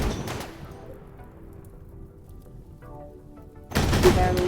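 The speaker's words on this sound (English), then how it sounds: "This man is just getting blasted by 4 turrets." Turrets in the Rimworld video game fire on a tanky enemy, a burst of rapid gunfire at the start, a quieter stretch, then another loud sustained volley near the end.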